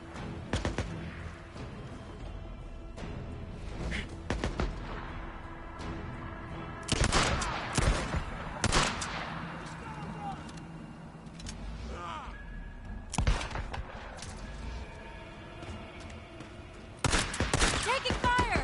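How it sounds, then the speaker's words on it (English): Gunfire in the open-world zombie game Days Gone comes in repeated loud bursts and single sharp shots over a steady background of combat noise, with voices shouting between volleys. "Taking fire!"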